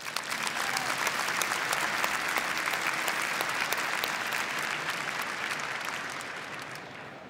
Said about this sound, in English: I'd like to propose a big round of applause for all of these people.